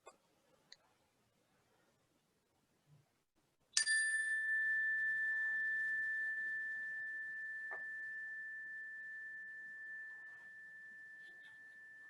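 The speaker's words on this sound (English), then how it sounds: "I will let you start with the sound of the bell" A single prayer bell is struck once to open a gathering, giving a sharp ding followed by a long, steady, gradually fading ring that sustains for several seconds in a quiet room.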